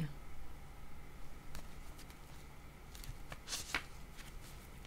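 Tarot cards being shuffled by hand, giving a faint riffling and flicking sequence with a couple of sharper card snaps near the end, over a steady low room hum.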